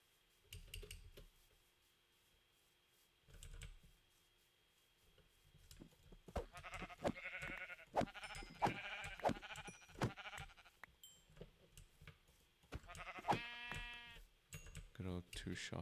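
Sheep in Minecraft bleat in a short run of wavering calls, mixed with game sounds and keyboard clicking while a player talks.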